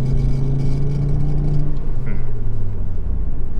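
Volvo C30 pulling hard in third gear while being tested for overboost, its engine droning loud and close as the pitch climbs and then drops away, with a whirring note over the low rumble.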